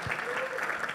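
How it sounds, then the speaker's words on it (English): Brief burst of audience applause for a guest at a community gathering, a dense wash of clapping lasting about a second with a voice faintly audible underneath. "Tim, let's give a big round of applause to Tim."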